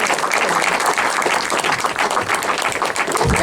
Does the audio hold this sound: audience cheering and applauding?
yes